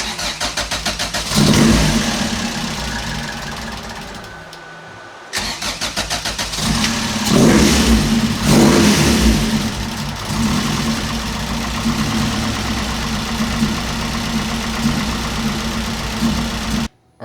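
A rare JDM car under repair cranks and catches, stumbles off, then restarts, revs hard a few times and settles into a rough, steady idle before cutting off abruptly; loud and close, with no voices.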